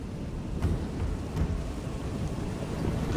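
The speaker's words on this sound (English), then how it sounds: "The rain is pouring" Heavy rain pours steadily over a moonlit battlefield in Thrones of Britannia, a dense low rumbling wash with a couple of faint swells, continuous and without voices.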